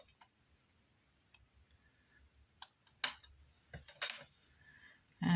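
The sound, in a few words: blade cutting a polymer clay cane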